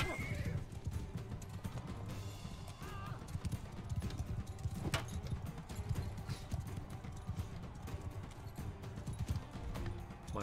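An injured horse in the Bannerlord video game whinnies loudly over a steady clip-clop of hooves, with a constant game soundscape beneath and faint speech in places.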